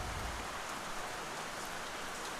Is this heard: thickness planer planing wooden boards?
no